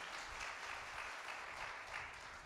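A church audience claps together in a dense, steady wash of applause, sounding somewhat distant and quiet, without any voices standing out.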